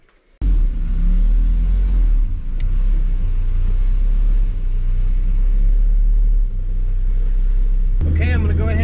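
A turbocharged Kazda car engine fires up and settles into a steady, loud warm-up idle with a deep low rumble, followed by a short rev near the end.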